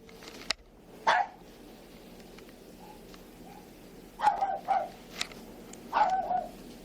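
A dog barks inside a house while it is being searched, a few separate barks and yips spread out, somewhat muffled and at a distance, over a quiet indoor background.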